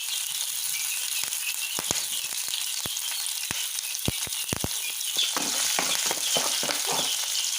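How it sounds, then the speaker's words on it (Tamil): Dry lentils roasting in a hot pan for a drumstick-leaf paniyaram dish, a steady dry sizzle with scattered sharp clicks and rattles as the grains are stirred and tossed, close and continuous throughout. "பருப்பு நல்லா சவுக்க வறுத்துக்கோங்க"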